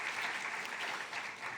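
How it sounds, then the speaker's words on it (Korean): Church congregation at a youth service clapping together, a brief burst of dense, even applause heard from a moderate distance. "우리 하나님께 영광의 박수 올려드리겠습니다"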